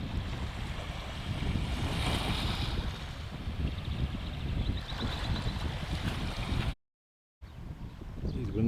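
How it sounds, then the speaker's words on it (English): Waves roll onto the beach at Torre Melissa, a steady loud roar of surf mixed with heavy wind buffeting the microphone, briefly cut to silence near the end. "It's the beach at Torre Melissa."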